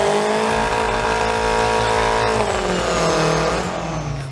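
Big V8-engine chainsaw cutting a tree stump, a loud, continuous engine roar close by that holds steady and then shifts pitch downward partway through as the load changes.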